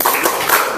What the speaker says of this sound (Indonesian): buat kelompok 1 sama kelompok 2 kita kasih tepuk keren